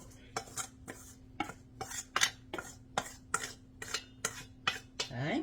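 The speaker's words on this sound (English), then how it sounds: "I'm going to dump it right in this pan now" Shredded leftover steak clatters into a pan for grinders, a run of about a dozen sharp, evenly spaced metallic scrapes and knocks as it is dumped and pushed around, close and fairly loud, with a brief spoken word.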